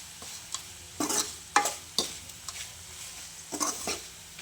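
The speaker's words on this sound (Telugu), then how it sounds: "బాగా మిక్స్ చేసుకోవాలి ఫ్రెండ్స్." Spiny gourd fry being stirred with spice powder in a pan, a series of irregular scraping strokes and soft clacks over a faint sizzle, close by, with no talk.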